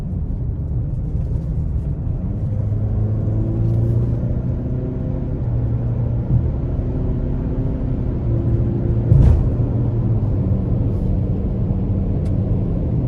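Inside a 2024 Ford Explorer XLT with a 2.3 turbo four-cylinder and rear-wheel drive, a steady low engine rumble and road drone build gently under light throttle while merging onto an interstate.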